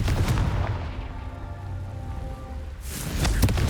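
Confringo blasting spell explosions in Hogwarts Legacy, a booming burst at the start and another at the end, with a lower rumbling hum between them.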